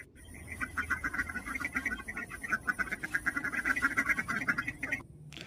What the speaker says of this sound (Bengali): কি সুন্দর হাঁসের কলরব শুনলেন।